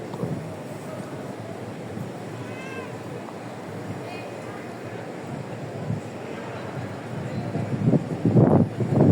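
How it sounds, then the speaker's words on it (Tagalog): Steady strong wind roars and buffets the microphone throughout at night at The Peak Lookout, with a few faint meow-like cries and louder gusts near the end. "grabe hangin"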